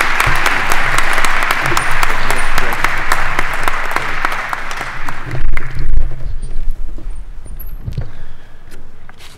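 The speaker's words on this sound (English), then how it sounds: "Let's give Congressman Latta a big round of applause" Dense audience applause fills a naturalization ceremony hall, a loud sustained wash of clapping that thins out toward the end, with scattered low thumps and a little background shuffling.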